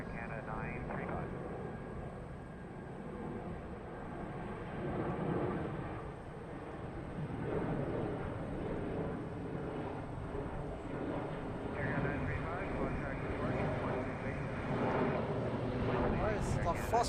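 An airliner going around at Toronto Pearson airport produces a loud, sustained jet roar that swells and rolls on for the whole stretch, with voices talking faintly beneath it.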